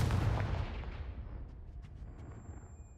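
A Confringo blast spell in the Hogwarts Legacy video game: one loud, booming explosive burst at the start, then a long rumbling decay with faint crackles and debris sounds trailing off.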